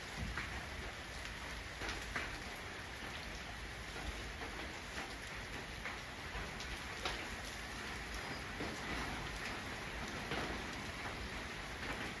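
Steady, heavy rain falling on surfaces where an elephant plays, a continuous dense hiss with occasional louder drops and no pauses.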